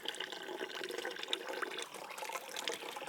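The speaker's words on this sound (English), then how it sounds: "got some water movement there" Water flows and trickles through a half-inch U siphon ram pump set up near a Shishi Odoshi fountain, producing a faint, continuous splashing gurgle with small drips and no voices.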